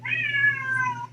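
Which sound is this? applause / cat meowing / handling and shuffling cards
cat meowing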